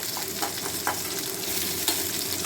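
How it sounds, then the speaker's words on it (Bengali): Hilsa fish frying in a pan for a Durga Puja dish, a steady close sizzle with soft stirring scrapes and a few brief louder crackles, no voices. "এখানে দেখো মোটামুটি ভাজা হয়ে এসেছে"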